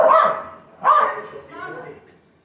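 Wild dogs bark at a gate at night, two sharp close barks about a second apart followed by a softer trailing yelp.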